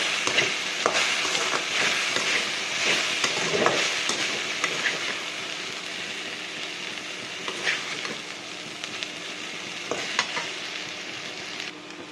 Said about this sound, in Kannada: ಈ ಬೆಂಡೆಕಾಯಿಲಿರೋ ಅಂಟಿನಾಂಶ ಎಲ್ಲ ಹೋಗ್ಬೇಕು, ಅಷ್ಟೋ ತನಕ ಫ್ರೈ ಮಾಡಬೇಕು.